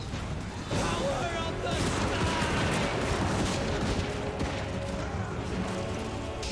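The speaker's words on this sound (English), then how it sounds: "Ready and fire at will!" Empire handgunners fire a volley in the fantasy strategy game Total War: Warhammer, a ragged crackle of gunfire over continuous battle noise, with someone talking over it.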